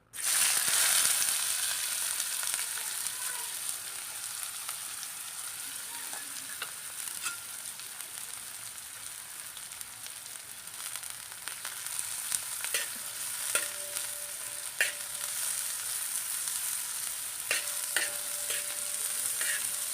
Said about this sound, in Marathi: कांदा पूर्ण लालसर होईपर्यंत भाजून घ्यायचा